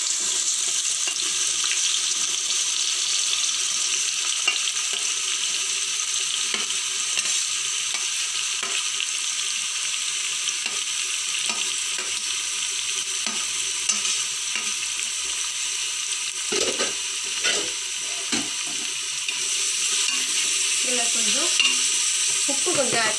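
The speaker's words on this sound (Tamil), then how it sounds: "இப்போ வெங்காயத்தை வந்து போட்டுக்கலாம்." Onions frying in hot oil for Ambur biryani, a loud, steady, continuous sizzle close up with faint intermittent stirring and scraping sounds near the end, no one speaking.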